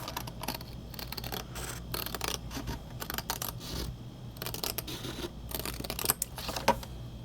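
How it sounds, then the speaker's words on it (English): Scissors cut into a scored paper to-go cup to remove a flap, producing faint, irregular snips and crinkly paper rustles scattered throughout, quiet and close, with no talking. "you're going to cut in at this score line and cut one flap off."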